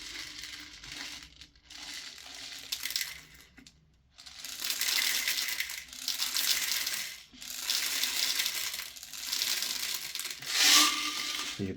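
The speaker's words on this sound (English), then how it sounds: "What we'll do is we'll pour some BBs in." Cheap airsoft BBs pour into a VFC M249 high-capacity magazine in several long rattling streams, a dense close hiss of tiny pellets with brief pauses between pours and no speech.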